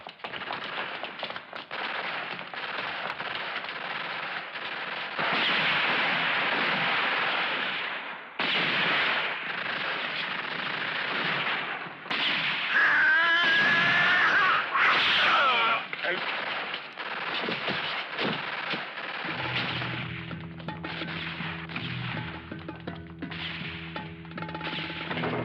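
Machine gun fire in a 1971 movie, loud rapid bursts running nearly continuously with crashes, shouts and voices mixed in, ending in a music-like tonal passage.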